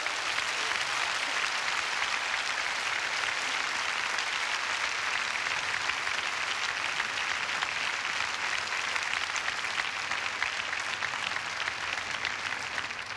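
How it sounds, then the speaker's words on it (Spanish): A church congregation applauds in praise during a bilingual English-Spanish sermon, a dense, even wash of clapping that holds steady throughout with no voices on top. "Demos un aplauso en alabanza al Señor."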